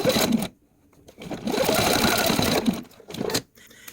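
A sewing machine stitches quilt binding in short close bursts, running fast for a moment, pausing, then running again.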